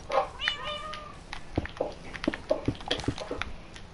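Pet cat in a Minecraft game meowing several times, a string of short, fairly close mews and squeaky cries in quick succession, soft overall, with light tapping sounds between calls.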